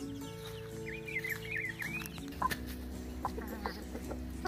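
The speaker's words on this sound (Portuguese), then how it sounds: "Um lado tem esse galo branco e umas galinhas." In a backyard coop, a white rooster and hens cluck nearby, with a drawn-out call followed by scattered short clucks over a steady low background hum.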